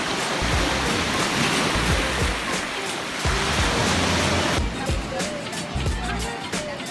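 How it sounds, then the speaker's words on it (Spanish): Calm ocean waves wash onto the beach at Playa los Ayala, a loud continuous surf rush with no break, swelling slightly partway through. "Las olas están más tranquilas para bañar."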